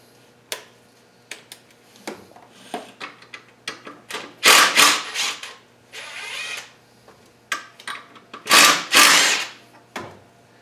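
A wrench removing the two 12 mm bolts from the oil pickup on a KA24DE engine during an in-car rebuild: scattered close metallic clicks and ticks, then two louder bursts of rapid ratcheting, with quiet pauses between.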